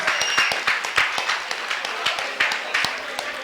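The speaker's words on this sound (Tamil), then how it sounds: "அதற்காகவே ஒரு உற்சாகமான கைத்தட்டல் தட்டலாம்" An audience claps for the organizers at a Tamil pattimandram debate in Athikulam, a dense, steady patter of many hands at moderate loudness that fills the whole stretch.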